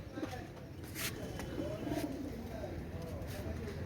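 Pakistani pigeons kept for sale coo in soft, repeated rolling calls close by, with a voice murmuring faintly in the background.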